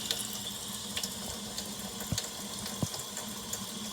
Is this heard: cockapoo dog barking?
no